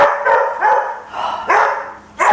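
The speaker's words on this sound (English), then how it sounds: "the dogs are very excited" Several dogs bark excitedly at home, a string of loud, close, sharp barks in irregular bursts, as if something is at the gate.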